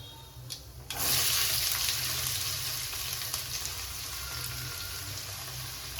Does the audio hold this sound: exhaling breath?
no